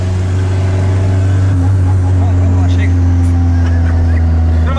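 A Volkswagen Gol turbo drag car drives along, a loud, heavy low engine drone with a deep steady tone that shifts slightly midway, heard from inside with faint background sounds and no clear talk.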